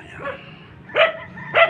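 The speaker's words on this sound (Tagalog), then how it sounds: "hindi naman tayo makapasok dahil merong aso" A dog barks at a storm-damaged house by the sea, giving three sharp, close barks spaced roughly evenly with brief quiet gaps between them, and no talk.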